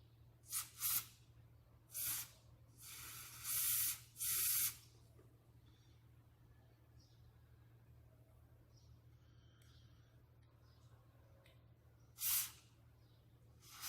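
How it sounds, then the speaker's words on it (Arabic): Spray can of cleaner misted onto dirty parts of a car's bumper assembly, about five short hissing bursts of varying length, fairly close, then quiet background with one more burst near the end. "راح نحط له هسه بخاخ"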